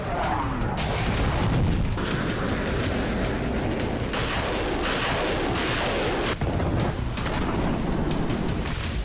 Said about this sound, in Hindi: रूसी सेना ने कीव के कई इलाकों में मिसाइल हमले किए